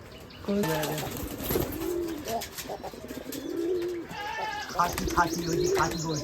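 Native deshi pigeons coo repeatedly in soft, rolling calls close by at a pigeon farm, with scattered rustling and a few other bird sounds between them.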